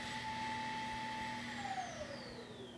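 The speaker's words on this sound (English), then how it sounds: "the robot vacuum decided to dump itself" Robot vacuum emptying itself at its self-empty dock, a steady loud whirring suction drone with a high whine that slides downward in pitch toward the end, heard alone without talk.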